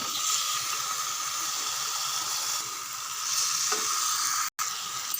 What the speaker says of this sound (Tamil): நல்லா ஒரு 5 நிமிஷம் வதங்கட்டும்